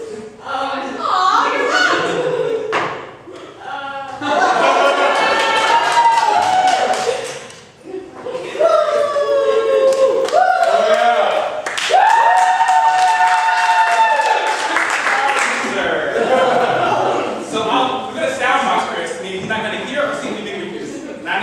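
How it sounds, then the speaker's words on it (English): An improv show audience yells and cheers loudly, with applause mixed in. The voiced shouting swells in several waves over about twenty seconds, dipping briefly between bursts. "by round of applause, you just yell as loud as you can when I get to the improviser that you really just don't like"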